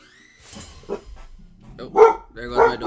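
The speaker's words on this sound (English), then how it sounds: "there goes my dog" A dog barks in the room, producing a couple of sharp, close barks in the latter half, with a person talking nearby.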